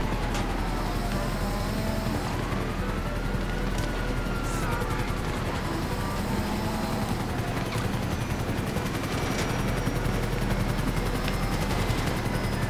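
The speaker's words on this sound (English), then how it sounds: "there's a chopper. We're gonna get shot down." A helicopter thrums continuously beneath rapid gunfire and scattered explosive bursts, a dense, loud battle soundscape in Grand Theft Auto V.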